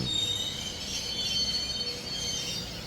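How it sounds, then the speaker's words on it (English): A Melbourne Metro train pulling into a station on the Glen Waverley line, with a steady rumble and high-pitched wheel squeal running throughout at moderate volume and no talk. "There it is, and it's going to Glen Waverley Station."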